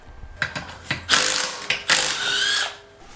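Ratchet working loose the wheel fasteners on a 2015 Subaru WRX, a series of short mechanical clicking bursts close by, with a longer sustained ratcheting run near the end.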